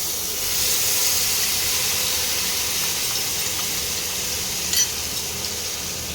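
Spice paste being poured slowly into hot tempering oil for a Bengali dahi aloo dum, giving a steady broad hiss and sizzle throughout, with a brief sharper crackle near the end and no talk.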